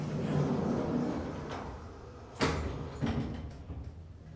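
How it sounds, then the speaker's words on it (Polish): Otis elevator doors at the Novotel Warszawa Centrum sliding shut, heard over a low hum, with a sharp thump midway and a softer knock after, fairly close and with no talking. "Jedziemy na 31 i zamykamy drzwi."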